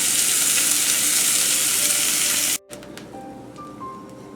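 Steaks sear in a hot pan with a loud, close, hissing sizzle that cuts off abruptly partway through, leaving a quiet room with faint tones.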